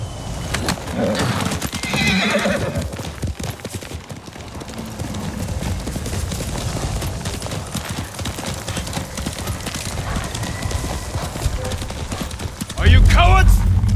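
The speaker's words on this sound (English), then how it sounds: "Horse!" Horse neighing and galloping in Ghost of Tsushima, a whinny rising out of a dense, continuous game soundscape, with hoofbeats running under it and a voice speaking near the end.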